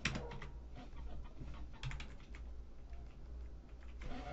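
Rapid clicking on a computer keyboard, close and fairly quiet, with bursts of keystrokes separated by short pauses.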